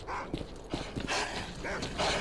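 Mutant dogs in STALKER: Clear Sky, with several short snarls and barks arriving in uneven bursts, fairly close and loud against a steady background hiss.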